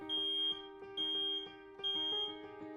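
Smoke alarm sounding in three loud, piercing bursts of rapid beeps with short pauses between, close to the listener and with no voices.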